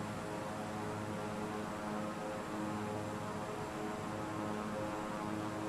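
A propeller airplane engine drones steadily in a flight video game, a constant loud hum and whir that fills the whole stretch with no talk.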